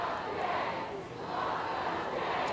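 A large crowd of supporters outside the Karen Read trial, held back by barricades on a shut-down street, roars as a steady, dense wall of cheering and shouting heard from within the mass of people.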